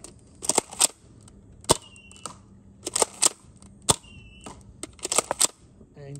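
Nerf Mega XL Boomdozer toy blaster firing darts, a series of sharp snapping shots in irregular clusters with brief priming clacks between them, fairly close.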